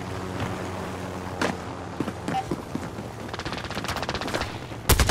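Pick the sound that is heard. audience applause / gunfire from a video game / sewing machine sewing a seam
gunfire from a video game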